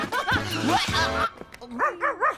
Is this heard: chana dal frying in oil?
no